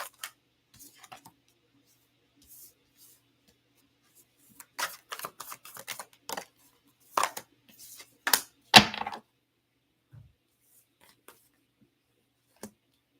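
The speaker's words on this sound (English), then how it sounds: "So I'm going to just do a couple oracle cards here" Oracle cards being shuffled and laid out for a tarot reading, heard as scattered soft riffles, flicks and taps that cluster into a busier burst midway, then thin out into a few isolated card snaps.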